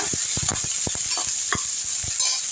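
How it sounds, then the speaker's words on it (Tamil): Green chili and onion sautéing in a pan for a road-side-style vada curry: a soft sizzle runs beneath a series of scraping stir strokes, each close and sharp, arriving irregularly. "பச்சை மிளகா போட்டுருங்க வெங்காயம் போட்டுடலாம் நல்லா வதக்கி விட்டுருங்க"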